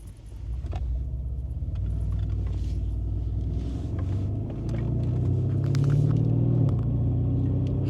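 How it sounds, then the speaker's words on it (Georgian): The V8 engine of a Mercedes-Benz S800 Brabus coupe gives a low, steady rumble heard from inside the car, swelling slightly toward the end, with a light jangle of keys. "და ეს 8 ცილინდრის მოდის უკნიდან."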